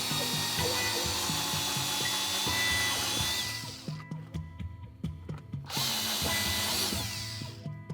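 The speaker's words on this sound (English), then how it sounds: "We got our holes drilled." A power drill bores holes for a winch fairlead mount on a bumper, droning loudly and steadily at first. It then breaks into choppy, uneven bursts, stops briefly, and starts up again.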